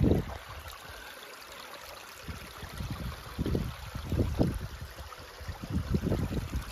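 Small river stream at the Snaefell mine site, a steady low watery rush and trickle close by with uneven surges and gurgles, heard alone without talk.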